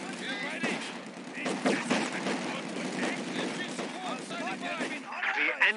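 Gunfire crackles in a Company of Heroes 2 battle, with repeated bursts and sharp reports spread across the moment, under game voices and radio chatter.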